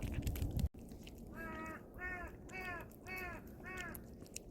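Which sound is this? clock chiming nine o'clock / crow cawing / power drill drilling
crow cawing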